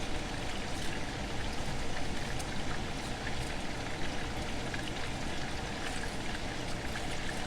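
Tap water pours steadily over pieces of cabbage separated into layers in a kitchen strainer, a constant loud splashing rush with fine patter, running unbroken and alone.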